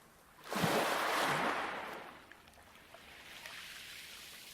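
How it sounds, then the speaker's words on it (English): A single gentle wave swells and washes in, then recedes into soft lapping water with faint drips, calm and fairly close, in sheltered, protected water. "Light waves in protected waters."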